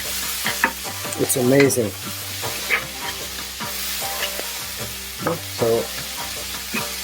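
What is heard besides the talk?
chilies frying and sizzling in pan for beef curry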